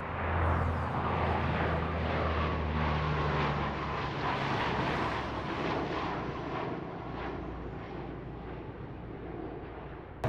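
A firefighting air tanker flies in behind a lead plane over a wildfire, its engines giving a loud, steady roar that rumbles on without a break, with no voices over it.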